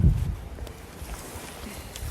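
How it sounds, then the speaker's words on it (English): Wind buffeting a microphone outdoors at a bayou fishing camp, low rumbling gusts strongest at the start, then softer steady blustering. "It's a little bit windy. I'm sure you can hear it in the microphone."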